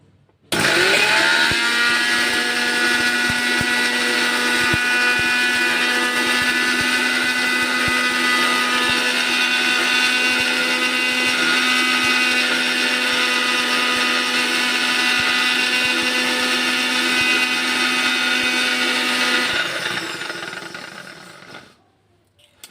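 A small mixer grinder jar spins up and grinds ajwain seeds into powder, a loud steady high whine that holds for about twenty seconds before winding down and stopping.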